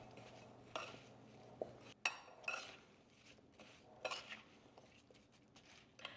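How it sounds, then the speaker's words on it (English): Raspberry rhubarb filling with lemon, salt and sugar gets stirred in a bowl, producing quiet scattered clinks and soft scraping of a utensil against the bowl, with gentle wet movement and no voices. "Give that a stir."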